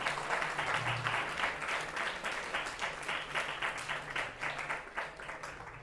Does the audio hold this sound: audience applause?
yes